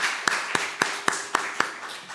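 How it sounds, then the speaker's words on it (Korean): A church congregation claps during a Sunday morning worship service, heard as a run of sharp, evenly spaced beats about a quarter second apart over a soft hall background. "감사의 박수를 드립시다."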